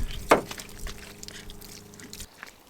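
Shower water runs inside a Ford F250 truck camper, a steady pouring splash that cuts off sharply just before the end.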